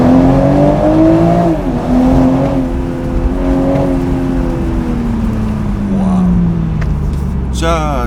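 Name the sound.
BMW Z4 M40i sports car exhaust in Sport mode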